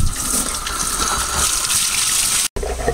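Water gushing and splashing loudly as the lid comes off a pool and spa cartridge filter, a dense, continuous rush with one very brief break near the end.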